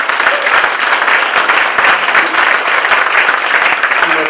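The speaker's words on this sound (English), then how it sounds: "the applause should be bigger in just a moment" Loud, close applause from the audience at a town flood meeting, given in thanks to the local fire department, rolling steadily without a break for over four seconds.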